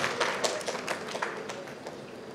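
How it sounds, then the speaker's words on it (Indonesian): Scattered clapping from an audience at an Indonesian risk-management seminar, a thin patter of claps over a steady room hum as a speaker is invited to the stage, moderately close and fairly quiet. "Ya, tepuk tangannya Bapak Ibu"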